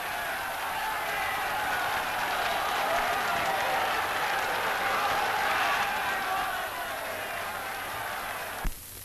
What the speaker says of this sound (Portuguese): agradecer as aclamações da multidão